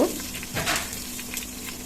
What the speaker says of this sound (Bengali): পেঁয়াজ কুচি ভালোভাবে একটু নেড়ে ছেড়ে ভেজে নিব